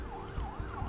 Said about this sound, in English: As the piercing wail of police sirens grow closer, we defeat the last assassin.